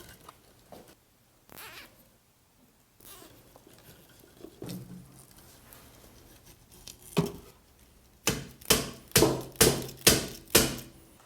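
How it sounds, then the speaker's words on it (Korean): A hammer taps cable and chicken wire down into potting soil while an organic natural elf tree is built: scattered soft knocks, then a run of six sharp, evenly spaced blows at the end. "망치로 두들려서 흙 속에 파묻혀 주고요"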